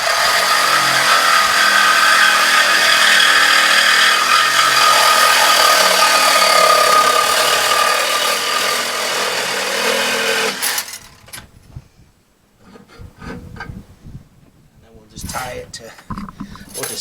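A power tool cuts off an exhaust muffler on a small-pipe vehicle, buzzing loud and steady for about ten seconds, then stopping, with scattered clanks and handling noises after.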